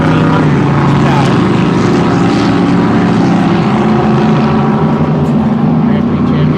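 Methanol-fuelled Grand Prix Hydro racing powerboats of up to 1,400 horsepower roar continuously at a regatta, a loud sustained engine drone with no breaks and no clear voices heard over it.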